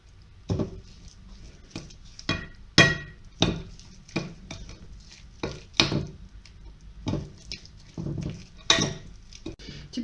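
A spoon scrapes and knocks around a bowl while kefir batter for a Nyagre cake is mixed, a close, irregular series of clacks and swishes separated by short pauses.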